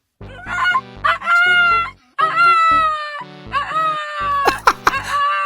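A rooster crows loudly and close, several drawn-out harmonic calls in succession, with a burst of sharper squawks near the end.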